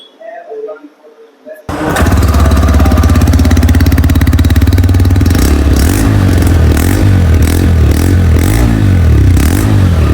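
A TVS Raider 125 motorcycle engine starts abruptly and idles loudly, with a few revs pulsing through the steady, close-up rumble.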